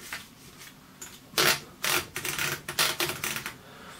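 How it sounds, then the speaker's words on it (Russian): Carriage of a Royal KMM manual typewriter with an extra-long carriage being pushed back, a run of close, loud mechanical clacks and ratcheting bursts in an irregular rhythm with no voices. "Перемещаем каретку в начало строки и можно печатать."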